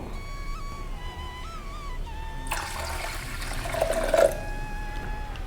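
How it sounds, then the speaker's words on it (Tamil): About two cups of water are poured into a pressure cooker holding foxtail millet, making a rushing splash that starts midway, lasts under two seconds and swells briefly before stopping, over a quiet background hum. "இதுக்கு ரெண்டு கப்பு தண்ணி வச்சுக்கலாம் சரியாக இருக்கும்"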